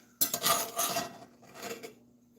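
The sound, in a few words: scraping the bottom of a pan of hamburger meat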